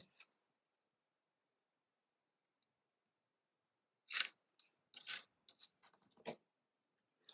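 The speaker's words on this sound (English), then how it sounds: "I'm using sewing scissors." Sewing scissors snipping through lace, a quiet stretch followed by a cluster of short, crisp cutting snips, close and fairly faint, with no voices.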